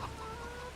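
Brief burst of a farm flock in a farming video game: chickens clucking densely and nearby, overlapping calls with no pause and no voices.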